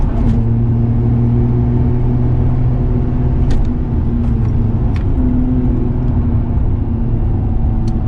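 A Nissan Skyline GT-R R34 engine hums steadily from inside the cabin with low road rumble and occasional brief ticks, no talking, on a winding mountain road.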